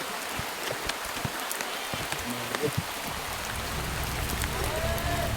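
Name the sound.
rain falling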